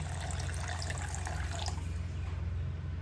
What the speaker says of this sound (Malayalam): നമുക്ക് വെള്ളം ഒഴിക്കാം കേട്ടോ